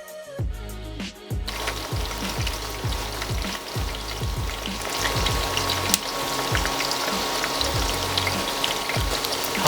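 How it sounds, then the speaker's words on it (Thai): Squid pieces deep-frying in hot oil on lowered heat: a dense, continuous crackling sizzle close by, with a steady bubbling pulse underneath, no voices. "แล้วค่อยนำปลาหมึกเนี่ย นำไปทอดในน้ำมันครับ"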